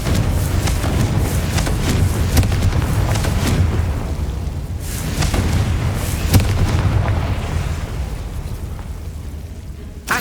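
The Confringo fire spell explodes in the Hogwarts Legacy video game, producing a dense, continuous barrage of booming blasts and rumbling bursts that stays loud throughout and tapers slightly before a final pop.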